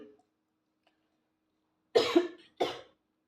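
Two separate coughs from a woman, harsh and close, one after the other following a long stretch of silence, with no talking around them.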